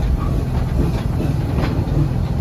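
Serengeti Express train at Busch Gardens Tampa rumbling along with a steady low roar and faint clickety-clack, continuous and close throughout, no talk.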